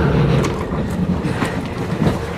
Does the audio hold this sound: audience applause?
no